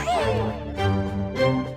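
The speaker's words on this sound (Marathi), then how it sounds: "हा मांजराचा आवाज कुठून येतोय?" A cat meowing inside a godown, a few drawn-out, pitch-sliding cries at moderate loudness with a low hum of other sound underneath.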